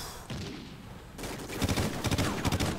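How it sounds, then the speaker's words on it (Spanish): Gunfire in Call of Duty: Ghosts, with a burst of rapid automatic shots followed by a sharp shot and then a dense, rolling fusillade of close, loud machine-gun fire. "voy a tirar unos tiros"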